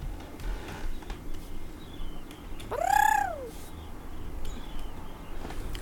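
A small owl gives a single soft, rising-and-falling coo, close and clear, over a quiet outdoor background with faint ambient sounds.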